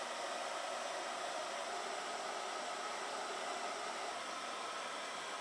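A hair dryer with a diffuser attachment runs steadily with a constant airy whoosh, unbroken and even throughout, with no talking.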